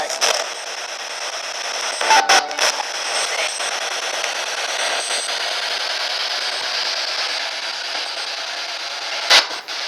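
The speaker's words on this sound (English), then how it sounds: "we've got the spirit box running now" A ghost-hunting spirit box radio sweeping through stations, giving a continuous loud hiss of white noise with brief crackling bursts and choppy fragments throughout.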